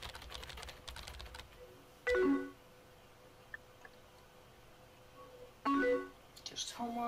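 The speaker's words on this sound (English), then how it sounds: "I'm going to keep typing." Keyboard typing in the video game Emily Is Away: quick bursts of close, clicky keystrokes, with two short louder clattering bursts, and a person talks quietly in between.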